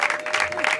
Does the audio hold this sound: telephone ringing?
no